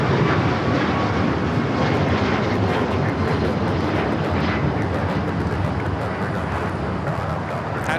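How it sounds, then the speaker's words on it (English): A United Airlines Boeing 737 MAX 9 takes off, its jet engines giving a loud, sustained roar that holds steady throughout. "That is United Airlines 2667 taking off to Washington Dulles on the MAX 9."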